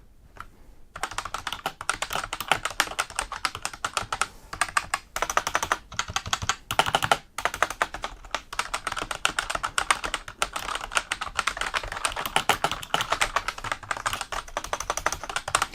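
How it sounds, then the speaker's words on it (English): Rapid, continuous typing on an MSI GK30 gaming keyboard, with clacky keystrokes and slightly rattling keys, especially the enter key, close up with a steady rhythm that briefly pauses, then resumes for the full stretch. "there is a little bit of a rattle from some of the keys, the enter key particularly"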